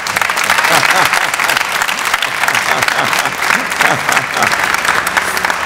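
Audience applause at the Hampton University Founders Day ceremony, a loud continuous burst of many hands clapping in a large hall, steady throughout with voices mixed in.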